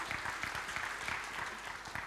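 A church congregation claps during Sunday worship, a dense steady patter of many hands, moderately loud and continuous with no voices over it.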